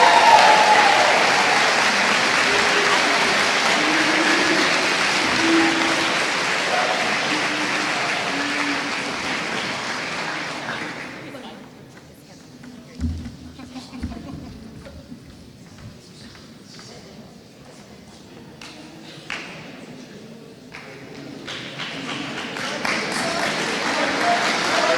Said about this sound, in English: Please give a round of applause to this year's winner, Mackenzie Loescher